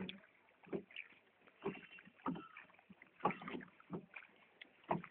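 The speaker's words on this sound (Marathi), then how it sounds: "बोट इथून चाललो आपण." A small boat moving across water, with rhythmic splashing and sloshing in regular strokes over a light windy hiss, fairly close and moderately quiet.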